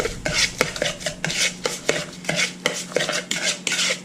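Crab cake mixture with soy sauce is stirred in a bowl, a spoon scraping and clinking rhythmically against the sides in quick repeated strokes, close and alone.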